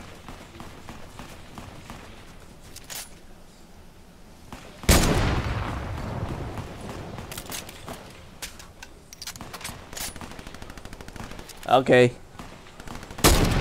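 Game gunfire in Fortnite: one loud broadband blast with a ringing tail, later a short rapid burst of shots, under quiet background game noise with a brief spoken word.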